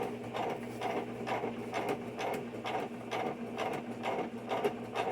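A WHITE Model 1740 quilters' sewing machine stitching at a slow setting, making distinct mechanical clacks in a steady repeating rhythm, roughly two per second, heard up close and fairly quiet.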